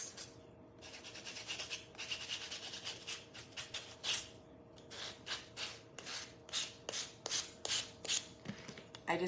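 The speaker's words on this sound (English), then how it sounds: "I just kind of sand it a little bit." A surface is sanded by hand with a small sanding piece, giving repeated short rasping strokes in an uneven rhythm, close and fairly quiet, with brief pauses between bursts and no talking.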